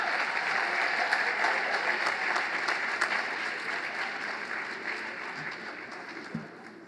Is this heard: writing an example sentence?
no